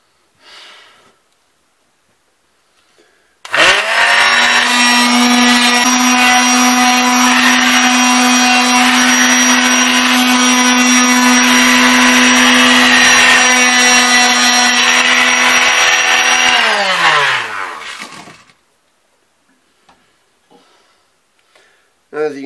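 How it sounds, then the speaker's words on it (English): A powered belt or orbital sander runs steadily for about fifteen seconds polishing a gun buttplate, a loud constant whine that starts abruptly and winds down at the end, with brief quiet handling sounds before and after. "I'm still gonna hit it with the belt or the orbital sander"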